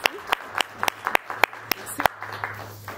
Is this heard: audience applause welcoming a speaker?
yes